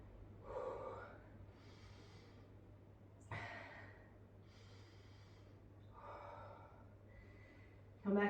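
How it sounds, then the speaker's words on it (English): Slow, steady nostril breathing during a yoga session, soft rhythmic inhales and exhales about every second or so, quiet and close over a faint background hum. "Come back to that nostril breathing."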